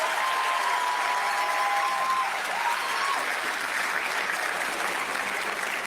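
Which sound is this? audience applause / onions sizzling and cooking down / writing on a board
audience applause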